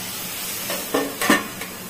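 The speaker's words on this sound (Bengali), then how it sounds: "এই আলুটা ভাজছি" Potatoes fry in a pan with turmeric over a lowered gas flame, giving a soft, steady sizzle broken by a few brief stirring scrapes.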